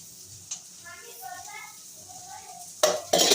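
A spoon stirs a mixture with ginger and garlic in a pan before deep frying, with soft scraping and a few clinks. A voice talks over it throughout, and two louder metallic clatters come near the end.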